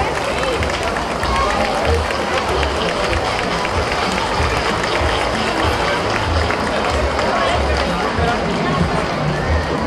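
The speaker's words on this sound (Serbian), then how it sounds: "Molim se jedan veliki aplauz" A festival crowd in Leskovac applauds the city's mayor at the 2018 grill festival: dense, steady clapping fills the whole stretch at close range, with a murmur of voices underneath.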